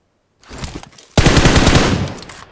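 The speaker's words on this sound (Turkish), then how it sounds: "Bilerek sıkıyorum." Loud, close automatic gunfire in the mobile game PUBG Mobile on the Erangel map: a short rattling burst, then a longer sustained volley that fades out.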